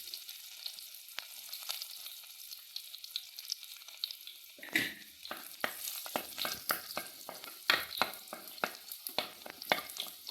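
Chili and onion fry in a pan, quiet at first, then a loud sizzle breaks out with repeated scraping stirs and crackles close by; no one speaks.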